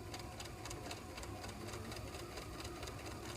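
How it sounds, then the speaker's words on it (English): A sewing machine stitches fabric in a makerspace, its steady, rapid mechanical whirring and needle rhythm running continuously at close range with no talk. "You want to try sewing on some of this?"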